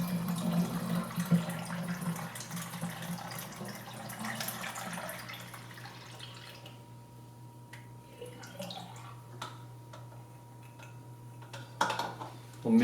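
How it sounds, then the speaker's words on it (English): C41 colour film developer solution being poured quickly from a processing tank back into its bottle, giving a steady close liquid pour and trickle that tapers off into faint drips and small clinks. "we're just going to pour this solution back into the developer bottle as fast as you can"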